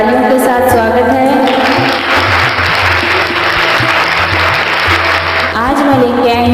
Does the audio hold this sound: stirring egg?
no